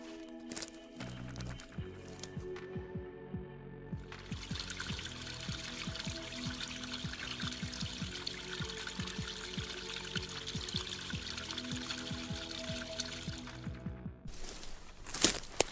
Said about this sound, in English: small streams, basically streams of rainwater that flows downwards and eventually flow into the river